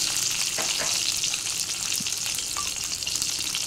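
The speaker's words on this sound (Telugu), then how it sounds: "వాటిని ఈ నూనెలో ఫ్రై చేసుకోవాలి" Boiled eggs frying in hot oil with a sprinkle of salt, a dense unbroken sizzle with small pops and crackles, close and loud from start to finish.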